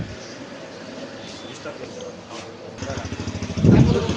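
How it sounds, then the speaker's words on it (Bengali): A used TVS Flame 125cc motorcycle engine idles with a soft, low, pulsing putter that grows louder in the last second or so, while people talk nearby. "125 সিসির গাড়ি, টিভিএস ফ্লেম, ঝিনাইদহ নাম্বারের গাড়ি।"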